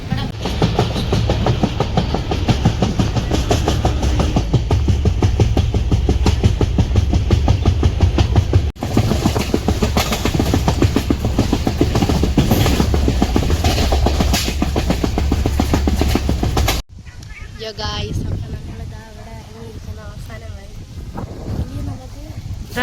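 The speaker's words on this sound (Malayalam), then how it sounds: "ട്രെയിൻ പോയി." A passenger train passes close by at a railway station with a loud, continuous rumble and rhythmic clatter of wheels. The noise cuts off abruptly and gives way to quieter wind and voices. People talk near the end.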